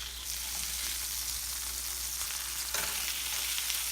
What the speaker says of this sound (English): We're gonna let them fry up a little longer.